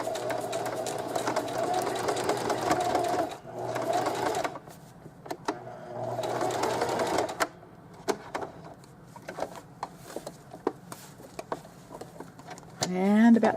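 A sewing machine stitches appliqué onto a sweatshirt in short runs of a few stitches each, its close, steady whirring buzz stopping and starting between pauses while a person talks.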